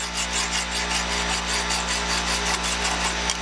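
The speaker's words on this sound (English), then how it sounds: "What I like to do, to make sure there's no burrs in here, run a file through, a rounded file," A rounded file is worked through a metal truck brake part on a GMC 7000 to clear burrs, producing steady, rhythmic rasping strokes, loud and close, with no talk.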